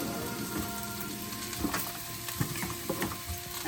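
Onions sizzling in hot olive oil in a pan, a steady rain-like crackle and hiss with a few small pops and light stirring taps, close and moderately loud, no speech.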